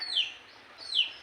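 A red junglefowl (labuyo) gives two brief, high, downward-sliding calls about a second apart, faint and alone against a quiet background.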